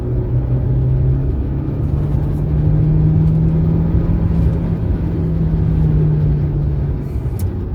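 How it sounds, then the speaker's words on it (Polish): Renault Captur E-Tech plug-in hybrid accelerating hard in sport mode with the pedal floored: a loud, sustained engine and road rumble with a steadily rising drone, close and continuous, with no talking. "Włączam na przykład tryb sport. Gaz mu daję w podłogę."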